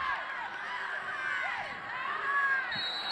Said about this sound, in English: The crowd getting loud.